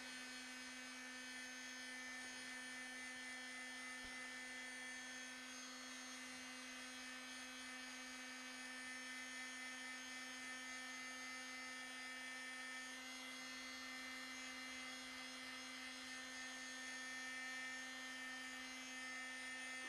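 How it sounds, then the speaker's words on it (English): A hair dryer runs steadily over a paper craft, a constant whirring hum with a fixed motor tone, faint and unbroken for the whole stretch. "we'll just add this dryer"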